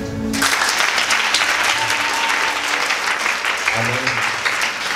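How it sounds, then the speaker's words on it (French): A church congregation applauds and acclaims in a continuous burst of clapping that starts abruptly and stays strong, with a few voices rising beneath the dense, close applause. "Je voudrais que tu acclames."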